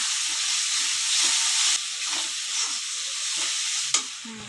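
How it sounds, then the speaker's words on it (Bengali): Spice paste with ground cumin and coriander sautéing in water in a pan for a Bengali chicken curry, giving a steady, loud broadband hiss and sizzle with a brief drop partway and a small clatter near the end. "জল দিয়ে মশলাটাকে ভালো করে কষিয়ে নেব"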